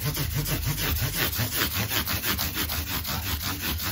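Fine 1000-grit sandpaper rubs back and forth on an Epiphone Les Paul guitar body in a fast, steady scrubbing rhythm, close and continuous with no speech.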